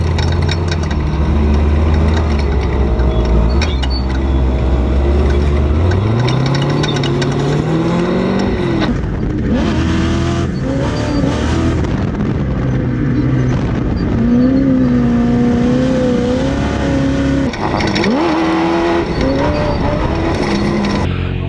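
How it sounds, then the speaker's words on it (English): A sand car from Funco Motorsports tears across the Glamis dunes, its engine loud and close, climbing and falling in repeated revs and pitch sweeps throughout. "So now we're going for a quick sand car ride."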